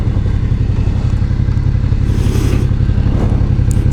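A Suzuki V-Strom 650 XT motorcycle pulls uphill with a steady, loud engine drone under continuous wind buffeting, which swells briefly partway through.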